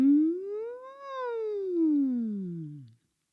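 A single voice imitates a siren, gliding its pitch smoothly upward and then sliding back down over about three seconds, steady and clear with no other sound.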